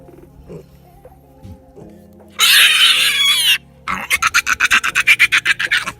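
Young piglets on a farm during castration squeal loudly and shrilly, first a long sustained scream, then a rapid series of rhythmic squeals, after a quiet stretch of low handling noises.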